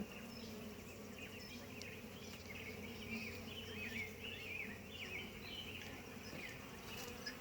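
A steady, droning hum of many honey bees buzzing close by during a hive brood inspection, with individual wing tones rising and falling over the continuous swarm noise.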